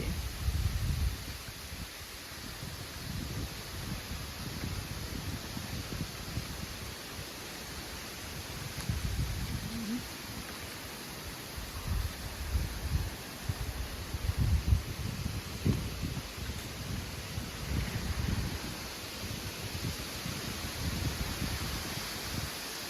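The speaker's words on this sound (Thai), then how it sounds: "ฟังเสียงลมนะคะพี่พี่" Wind blows through leaves along an outdoor trail, a steady broad rustling hiss with gusty low rumbles swelling and fading, no voices.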